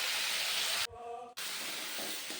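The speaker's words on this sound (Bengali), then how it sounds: "সবগুলো একসঙ্গে দিয়ে ভাজলাম।" Peas and fish, boal catfish, frying together in a pan, giving a steady broadband hiss that breaks off briefly for about half a second and then resumes.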